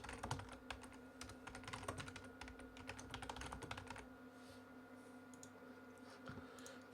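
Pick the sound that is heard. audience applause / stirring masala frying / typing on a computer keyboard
typing on a computer keyboard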